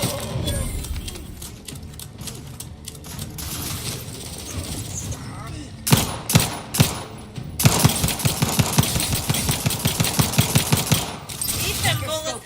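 Rapid bursts of video game gunfire, with sharp repeated shots and fast automatic volleys coming in clusters over a busy game soundscape.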